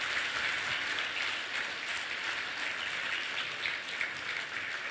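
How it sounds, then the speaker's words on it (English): Steady audience applause fills a public talk event, a dense wash of many hands clapping at an even level throughout with no break. "Round of applause there."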